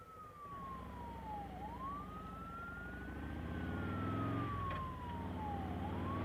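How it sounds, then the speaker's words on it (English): An ambulance siren wails steadily as the vehicle passes an intersection on a Michigan road, the rising and falling tone heard from inside a moving car over engine and road rumble. "here comes an ambulance"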